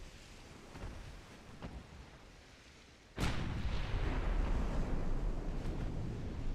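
Heavy naval gunfire strikes a battleship in a sea battle video game, a sudden deep boom that gives way to a long rumbling roar, after quieter distant thuds.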